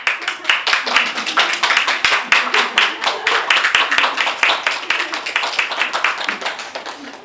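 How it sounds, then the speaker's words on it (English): Wedding guests at a marriage ceremony give a round of applause: loud, dense hand clapping with sharp, rapid claps that swell and hold steadily throughout, with no voices on top. "round of applause?"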